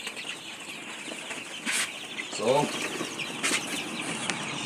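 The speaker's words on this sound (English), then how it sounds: "here are our birds. Thirsty, very thirsty indeed." Thirsty chickens in a poultry house, around the time of a Gumboro vaccination, flap their wings in short bursts and give an occasional cluck. The sounds are close by over a steady background hum, and a voice speaks briefly.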